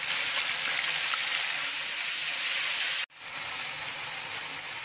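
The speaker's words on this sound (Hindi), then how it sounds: "प्याज की पेस्ट जो है इसको अब हम थोड़ी देर फ्राई करेंगे" Onion paste frying in a pan for white chicken korma, a steady close sizzle and hiss that cuts out for an instant near the end before resuming.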